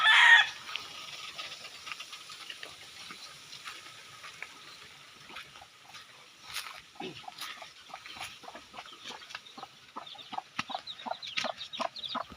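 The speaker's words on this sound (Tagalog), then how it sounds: "Halika, pakita ko sa inyo yung mga sisiw." Chicks and chickens cluck and peep close by, with a loud call at the start, then faint scattered chirps that grow busier and more frequent toward the end.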